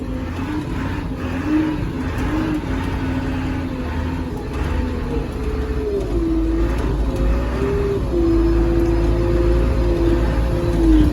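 Cat IT28G wheel loader engine running up through its gears, steady diesel drone with rising and falling pitch as it shifts, close and continuous.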